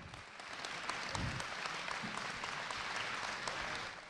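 Applause from a concert audience after a brass band performance, steady dense clapping held at a moderate level throughout, heard from a distance.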